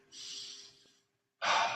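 Two slow, deep breaths heard close up in a quiet room during a yoga session: a long airy inhale that fades out, a pause, then another breathy rush of air.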